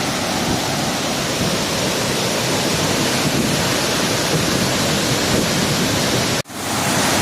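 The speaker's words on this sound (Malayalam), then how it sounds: "ഞാൻ വിചാരിച്ചുകൊണ്ടിരുന്നത് ചെറിയൊരു വെള്ളച്ചാട്ടമാണ് പക്ഷെ നിങ്ങൾ കാണ്" A large hidden waterfall roars in a loud, dense, unbroken rush close by, filling the whole span before cutting off abruptly near the end.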